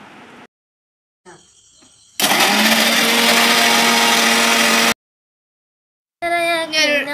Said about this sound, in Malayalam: ഇനി നമുക്ക് ബിസ്ക്കറ്റ് മിക്സിയിലിട്ടൊന്ന് പൊടിച്ചെടുക്കാം